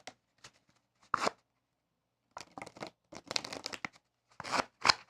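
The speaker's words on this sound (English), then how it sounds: "You're showing the cards like that, and you can dribble them." Playing cards dribbled by a magician in several quick riffled bursts, crisp fluttering rustles separated by short pauses, close and fairly quiet.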